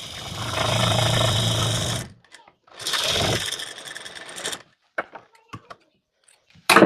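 A sewing machine stitching the corner of a blouse hook strip in two runs of steady whirring, each about two seconds, then a stop and a few soft clicks and taps, close and without talking.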